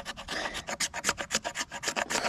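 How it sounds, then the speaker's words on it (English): A knife blade scrapes fatwood outdoors in the woods in quick, rhythmic rasping strokes, about a dozen close, fairly soft scrapes with no talk over them. "He's scraping fat wood."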